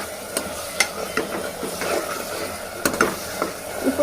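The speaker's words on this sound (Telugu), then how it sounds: "వేసి ఇప్పుడు తిప్పేద్దాం" Ground coriander, dried red chilli, cumin and coconut powder stirred into a spinach rice mixture in a pan, with scattered scrapes and clinks over a steady low sizzle and no one speaking.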